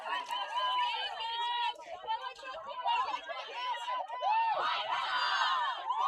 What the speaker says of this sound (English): And a nice loud cheer there from the Waikato girls.